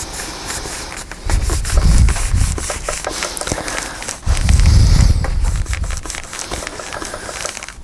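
A thin awl run around the openings of a Stamperia Roses and Lace paper craft page makes close scratchy rubbing and faint crackles, with two heavier low bumps as the page is handled.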